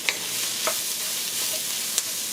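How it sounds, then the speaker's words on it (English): Aromatics including pepper and garlic frying in hot oil for a curry, a steady soft hiss broken by a few light stirring clicks and taps, heard alone without talk. "Chunky just means to saute or to fry in hot oil, to fry the aromatics."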